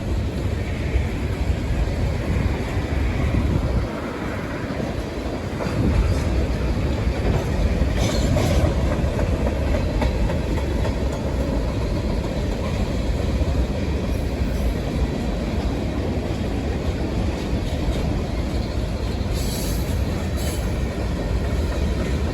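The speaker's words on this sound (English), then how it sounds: "Those are train trash cars, like in New York City." A long Union Pacific freight train hauling trash cars rumbles past close by in Grand Prairie, Texas, with loud, steady rolling noise, wheel clatter and faint high squeals throughout.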